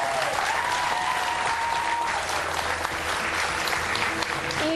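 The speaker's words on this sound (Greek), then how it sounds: "φανταστείτε πόσο σημαντικό είναι αυτό το χειροκρότημα." Theatre audience applause, a steady wash of many hands clapping that continues evenly throughout, with faint voices underneath.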